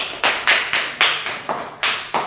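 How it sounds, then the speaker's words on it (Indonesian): A classroom group clapping in unison, about eight sharp rhythmic claps evenly spaced, loud and close with no talk over them. "Tepuk tangan untuk kelompok 2."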